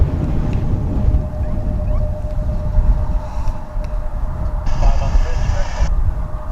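An American Eagle Embraer 175 regional jet at DFW airport gives off a loud, continuous low roar that swells and holds over several seconds amid open-air wind.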